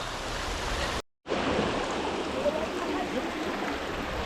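A small waterfall in Kodaikanal pours steadily in a broadband rush of falling water, close and continuous, with a short silent gap near the start.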